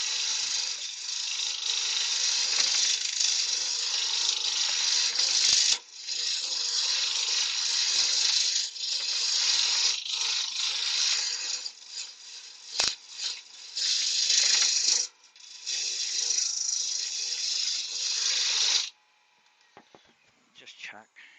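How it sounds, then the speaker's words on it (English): Wood lathe running at speed while turning a wooden snowman, a steady loud whirring drone with brief dips and rattling cuts, settling into a quieter hum near the end. "Now, just let the lathe get up to speed."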